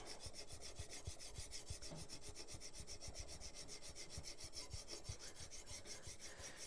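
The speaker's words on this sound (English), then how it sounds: "There you go, that's draw filing." Metal being draw filed with a hand file, the cutting done on the push stroke in a quick, even run of rasping strokes, close and soft.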